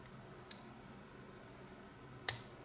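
A lock pick clicks against a pin in a Lucznik E8 lock cylinder, giving two small, crisp clicks about two seconds apart over a quiet background hiss.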